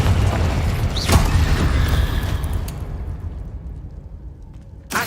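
A Confringo explosive spell from Hogwarts Legacy goes off with a loud, low booming blast and a sharp crack, followed by a rumbling decay and a fresh burst right at the end, with no talking.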